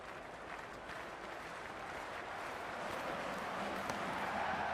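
Stadium crowd in the Cricket 26 video game, a broad steady roar of cheering and applause that swells slightly toward the end, with no voices standing out.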